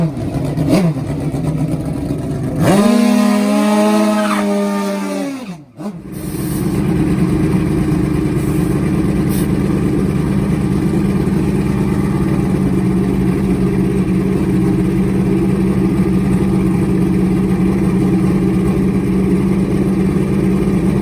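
A nitrous-fed drag racing motorcycle making over 500 horsepower revs up sharply in a rising, stepped howl, cuts off abruptly, then a loud steady engine drone carries on at a drag strip for the rest of the stretch.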